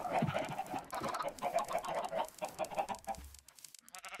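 Chickens in a Minecraft-style video game cluck in quick, busy bursts, several birds close together and fairly loud, with no talking over them.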